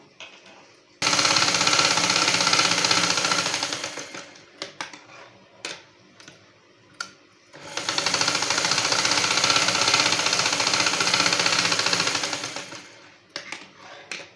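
A sewing machine runs two long, loud, rapid stitching passes along a dress coat seam, with short stops and clicks between them as the fabric is turned.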